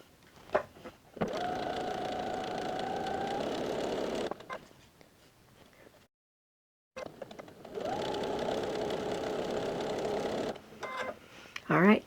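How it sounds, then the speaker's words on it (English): A sewing machine runs steadily while stitching quilt pieces, two sustained bursts of several seconds each separated by a pause, close and fairly loud, with brief handling noises around them. "let's go ahead and get these over to the sewing machine and make our first pass."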